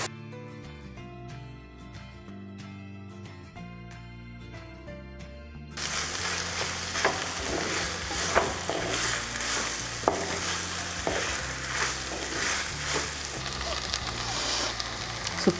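Curry frying in a pan with ghee sizzles in a steady, dense crackle after music ends partway through, with occasional scraping stirs and no talking.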